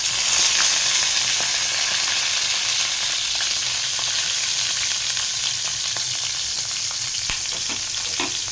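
Green chillies and tomato pieces frying in a pan for brinjal chutney: a constant loud sizzle with scattered spatula scrapes and ticks through the whole stretch.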